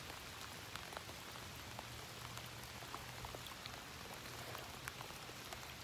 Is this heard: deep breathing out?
no